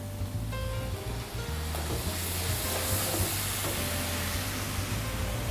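Shredded braised lamb ragu goes into a hot pan and sizzles loudly and continuously, with bursts of frying crackle and light stirring throughout.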